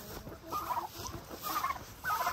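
Several turkeys gobble in quick, warbling bursts close by, with a couple of overlapping calls and a steady background hiss.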